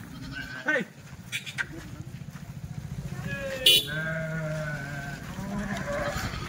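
Kathewadi sheep bleating at a livestock market, a couple of clear calls over a rumbling engine and background voices, with a motorbike-like drone underneath.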